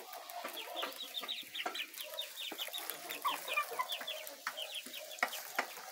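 Índio Gigante chickens cluck in a steady, busy chorus of short repeated calls at close range, with no talking over them.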